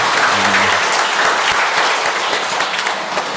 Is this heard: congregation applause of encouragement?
yes